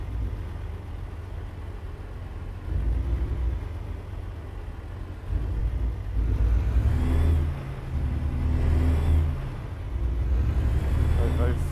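Simulated truck engine while driving through the night in American Truck Simulator, a continuous low drone that swells and rises in pitch a few times as it revs, steady and close.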